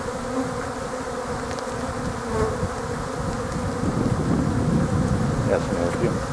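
Honeybees buzz steadily on a mild winter day, a dense, continuous drone close to the microphone with slight swells in loudness.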